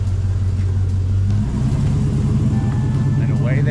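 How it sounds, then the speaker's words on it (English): An old Willys car pulls away, its engine rumbling low and steady then revving up with a throaty, uneven growl, close and loud, as people chat nearby. "it's pretty cool to be driving the old Willys"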